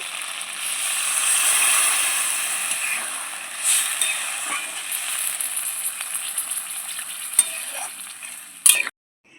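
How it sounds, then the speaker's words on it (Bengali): Water poured into sizzling fried spice paste in a pan for an okra and fennel curry, a surging hiss that swells then settles into steady bubbling sizzle, ending with a sharp clatter and sudden stop. "এখন আমি পরিমাণ মতন জল দিয়ে দিচ্ছি"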